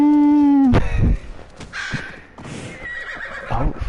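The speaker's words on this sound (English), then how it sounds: "I guess I called my horse at the wrong time." A loud horse whinny in the video game Assassin's Creed Valhalla opens, followed by a snort and softer nickering sounds, with no talking.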